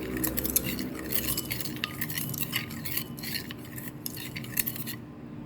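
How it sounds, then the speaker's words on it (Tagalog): Spoon or utensil stirring pork with vinegar and sugar in a pan, a steady scraping clatter with light clinks of metal on the pan, close and continuous with no talk. "And then guys, haluin natin yan."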